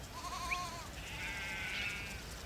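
Sheep bleat on a farm in South Africa, with a couple of thin, wavering cries heard faintly through steady outdoor background noise.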